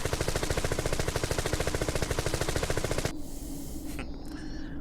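Barret's automatic gunfire in Final Fantasy VII New Threat, a rapid, steady stream of loud close shots for about three seconds, then it stops and leaves a quieter rumbling scene with faint high tones.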